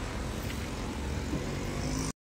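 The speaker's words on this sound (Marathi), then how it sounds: "आली आहे बघा ओला." An Ola taxi car arrives on a Mumbai street, its engine and road noise forming a steady, fairly close rumble that cuts off abruptly near the end.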